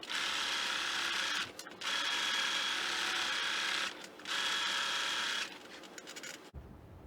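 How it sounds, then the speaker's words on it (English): A sewing machine stitches a quarter-inch seam along a patchwork project bag, whirring steadily in three close runs broken by brief stops, ending with a soft thump. "then I'm going to sew 1/4 inch away from the edge all the way down"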